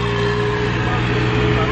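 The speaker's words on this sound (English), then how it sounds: "there's a tractor going behind me and the wind's blowing." A steady low engine drone, like a tractor rumbling nearby, mixed with a constant rush of wind noise.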